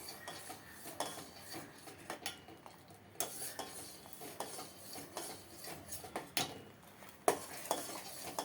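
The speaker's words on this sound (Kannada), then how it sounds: "ಈ ಹಾಲಿನಲ್ಲಿ ಈ ಕಸ್ಟರ್ಡ್ ಪೌಡರ್ ಹಾಕ್ತಾ ಮಿಕ್ಸ್ ಮಾಡಬೇಕು." A spoon scrapes and clinks around a pan while custard powder is stirred into milk for mango kulfi, with irregular metallic taps and rubbing strokes, close and unaccompanied by talk.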